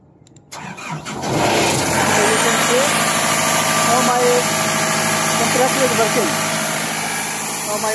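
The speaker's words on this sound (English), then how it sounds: "My compressor is working." An air compressor with a newly replaced actuator starts up after a short quiet moment, then runs at a steady, loud drone with a mechanical engine-like hum, with faint talk over it.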